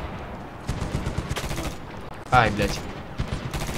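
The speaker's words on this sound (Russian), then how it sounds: "Ой, там пулемет." Machine gun fire in the Medal of Honor video game, a burst of rapid shots that peaks and then trails off, heard under a voice and exclamations.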